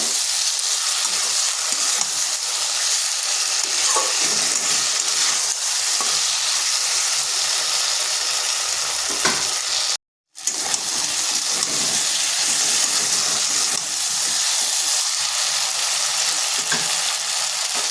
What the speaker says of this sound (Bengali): একটু ভালোভাবে নেড়ে চেড়ে নিতে হবে, মশলাটা যাতে সিমের সাথে মিশে যায়।